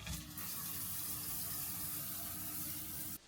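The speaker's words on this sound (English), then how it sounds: "now I'm going to go and have that shower" A shower runs steadily, a continuous even hiss of falling water that holds without change and cuts off abruptly at the end, with no voices.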